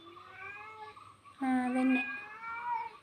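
A cat meows several times nearby, a long rising call followed by a louder, sharper one, while a person speaks briefly in between.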